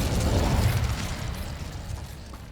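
A whooshing, roaring burst of the Incendio fire spell in the video game Hogwarts Legacy, loud at first and then fading over a couple of seconds.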